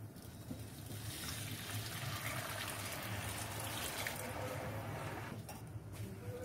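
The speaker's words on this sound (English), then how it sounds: "So now I am adding the water that we had boiled." Boiled water is poured into a pot of cooked rice, a steady low trickling and pattering that continues evenly and fairly quietly throughout.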